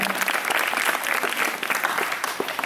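An audience claps steadily at a Marathi stage event, a dense continuous patter of many hands heard close and fairly loud, with no voices over it.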